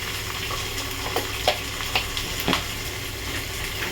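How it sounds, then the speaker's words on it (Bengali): Ginger paste frying with egg and potato in a pan, giving a constant close sizzle broken by a few quick spoon clacks and scrapes from stirring, with no voices. "এবার আমি এর মধ্যে আদা বাটা দিয়ে দেবো।"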